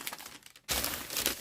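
Light rustling gives way to a burst of loud, crackly newspaper crumpling, close and continuous.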